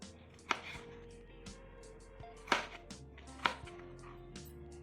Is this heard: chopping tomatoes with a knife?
yes